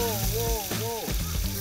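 Freshly pounded spice paste hits hot oil in a wok for a Blitar dish, giving a steady, close sizzle while a voice talks over it.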